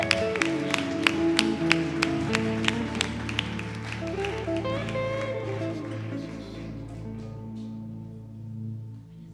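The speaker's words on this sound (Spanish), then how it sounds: "¿Cuántos se le dan un aplauso más fuerte a Él?" A church congregation claps in steady rhythm over loud sustained music, with sharp, evenly spaced claps during the first few seconds before the music carries on alone.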